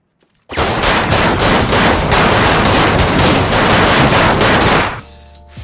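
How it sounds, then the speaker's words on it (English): Loud, sustained burst of rapid film gunfire from the final shootout of The Way of the Gun, shots blending into a continuous rattling volley for several seconds before cutting off abruptly. "the gunfire that has been happening in the scene thus far now becomes both excessive and ineffective"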